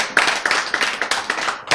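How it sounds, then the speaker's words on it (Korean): A church congregation claps in unison during a sermon, about seven or eight sharp, evenly spaced rhythmic claps, loud and close. "박수."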